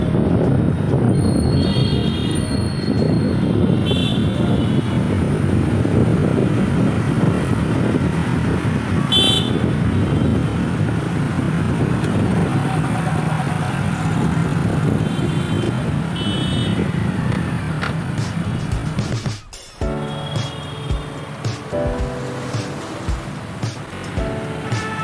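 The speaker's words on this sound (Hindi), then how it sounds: "ट्रैफिक बहुत है यार, बहुत बिजी जो है ये शहर," Busy city street traffic in Lucknow, a loud continuous roar of passing vehicles with scattered horn toots, which cuts off abruptly near the end and leaves a quieter stretch with occasional tones.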